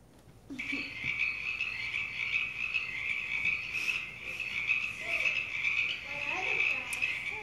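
A dense chorus of frogs croaking and trilling in a continuous high drone, with a few nearer croaks standing out.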